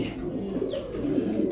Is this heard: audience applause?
no